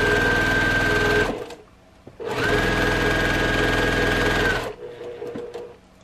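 Sewing machine stitching a quarter-inch seam on a quilted table runner, two loud steady runs of rapid whirring stitches separated by a short pause, with quiet handling after.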